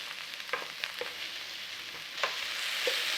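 Leeks gently softening in butter in a pan, a soft, low-level sizzle with occasional small crackles and pops, close but quiet and steady.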